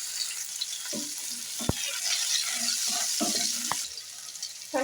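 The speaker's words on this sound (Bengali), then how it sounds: "তেলেতে দিয়ে দিচ্ছি কয়েক সেকেন্ড পরে ফোটানো পেঁয়াজটা দিয়ে দিলাম" Fried onion and a cinnamon stick crackle in hot oil for a pomfret fish curry, giving a steady close sizzle with a few brief knocks and clinks from a utensil, and no voices.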